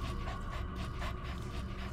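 D-Dog, the canine companion in Metal Gear Solid V, pants in quick, rhythmic breaths, steady and close, a soft looping game sound with no talking over it.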